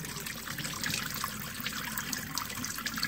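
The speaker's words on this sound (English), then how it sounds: "So let's see if it drains all the way down and all the way out." Water draining and trickling from an aquaponics swirl filter through a bottom siphon, a steady splashing, gurgling flow that stays loud and constant throughout, with no speech.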